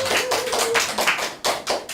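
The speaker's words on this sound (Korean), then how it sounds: "박수 한번 쳐주세요" A lecture audience claps on request at a Korean talk on building wealth, a few loud, sharp bursts of hand claps in quick succession, fairly close and not very sustained.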